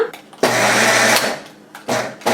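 A mixer grinder whirs loudly as it grinds sesame seeds with jaggery and cardamom, running in short pulses: a brief burst, a long run of nearly a second, then two quick bursts, with no talk.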